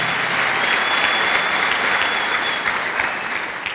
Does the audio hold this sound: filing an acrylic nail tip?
no